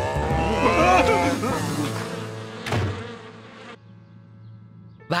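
Cartoon bees buzzing loudly to protect their hive, a dense wavering drone that swells, dips and cuts off abruptly near the end, with voices speaking over part of it.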